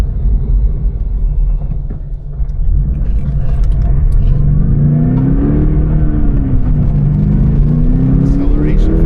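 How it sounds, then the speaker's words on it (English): A track-prepared Subaru BRZ TS on 245 Nankang CRS tyres accelerates on a damp road, heard from inside as a loud engine rumble with a climbing, sweeping pitch. Someone talks over it. "Acceleration feels good."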